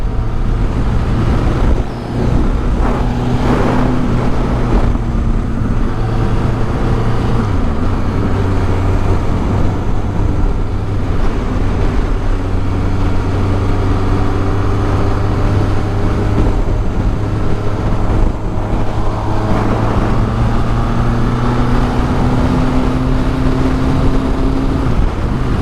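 A 1983 Suzuki GS 1100E custom motorcycle with a five-speed gearbox, recorded while riding: a steady, loud engine drone with wind rush and shifting engine tones that runs the whole time, with no talk.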